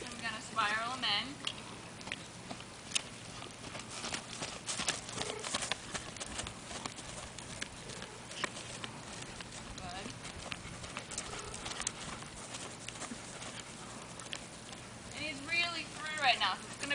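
A horse's hooves clip-clop in a steady three-beat canter rhythm on an arena surface, moderately close and fairly quiet, with a rider's voice and occasional snorting around it.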